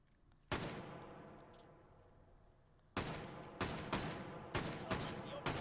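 An FAL rifle fires outdoors, one sharp report followed after a pause by a rapid string of five or six shots, each cracking loud with a short decaying echo.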